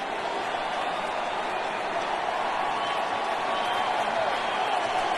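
Fans at a Giants home playoff baseball game against the Dodgers roar and cheer as a steady, broad wall of crowd noise that holds at an even level for the whole stretch.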